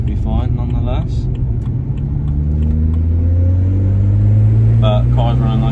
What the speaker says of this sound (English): But car's running nice and smooth.